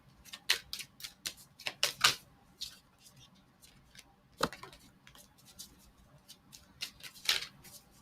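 Tarot cards being handled and shuffled during a reading: scattered crisp flicks and soft riffling snaps come in irregular bursts, close and fairly quiet, with short pauses between.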